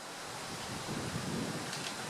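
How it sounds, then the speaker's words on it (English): Steady, blustery wind roars across the microphone outdoors, swelling slightly midway, with no voices. "it's a windy day today."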